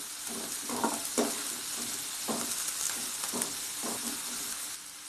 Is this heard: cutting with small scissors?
no